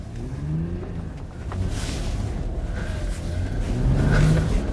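A cheap sports car engine revs and roars at close range while drifting on an inconsistent winter surface, rising and falling steadily with a harder push of revving near the end.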